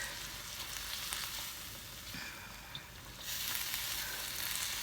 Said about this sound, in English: I'm just going to leave that to simmer until all the juice is taken up